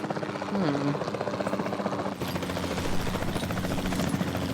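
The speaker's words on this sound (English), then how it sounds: "Then the sensible thing is to take a capture team helicopter." Capture team helicopter in Jurassic World Evolution 2, a steady buzzing rotor drone throughout, moderately loud, with speech and game sounds over it.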